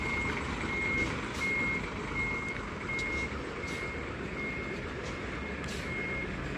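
A Sinar Jaya coach reverses into a parking spot, its reversing alarm beeping at a steady, regular pace over a continuous engine rumble and outdoor background noise.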